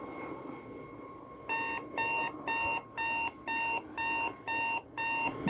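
A helicopter cockpit warning alarm in an audio drama: a fast run of about eight evenly spaced electronic beep bursts, loud and clear over a low engine hum.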